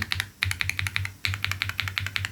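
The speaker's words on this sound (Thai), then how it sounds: "ตัวคีย์บอร์ดจะใช้สวิตช์ลินเนียไว้ทุกคน" Someone types quickly on an Ajazz mechanical keyboard fitted with linear switches in a gasket-mount build, producing crisp, close, rhythmic clacks in bursts with a short pause between runs, with no talking.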